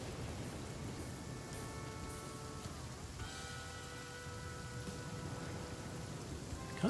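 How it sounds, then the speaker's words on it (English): Steady, constant rain in the survival game The Flame in the Flood, a dense wash of drops that runs throughout beneath faint tonal music, with no voices. "Can't imagine this would be a very fun experience with it being this cold and raining this constantly."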